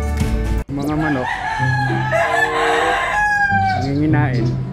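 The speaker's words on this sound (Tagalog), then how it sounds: "Mga manok." Chickens cluck close by while a rooster crows loudly in long drawn-out calls, a busy farmyard chorus of overlapping bird voices at a building site.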